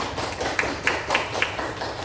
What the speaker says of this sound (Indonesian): Tepuk tangan ya, tepuk tangan.